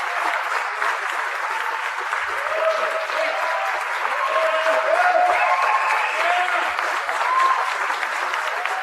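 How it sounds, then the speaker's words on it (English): Members of the press clap in an audience at a political speech on a tax plan, sustained applause that swells and stays loud throughout, with some murmured voices mixed in. "some of the press was actually clapping"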